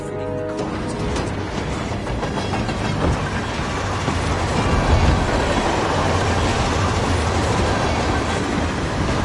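A train in the video game Hitman 3 rolls steadily along the rails, its continuous rumble and rhythmic clickety-clack of wheels over track joints filling the scene without any talk.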